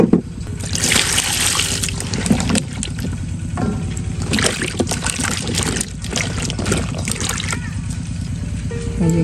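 Water splashing and trickling over a cut squash as it is rinsed, a steady wet dribble with louder splashes near the start and midway, over a constant low hum.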